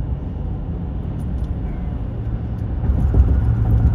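A car cruising at about 65 mph on the I-40 West freeway gives a steady low road and engine rumble from inside the cabin, swelling slightly louder toward the end.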